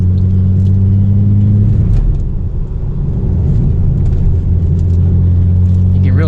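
A twin-turbo BMW with a full exhaust and big tune idles and revs nearby, a loud deep rumble that swells briefly, with a faint turbo whistle over it.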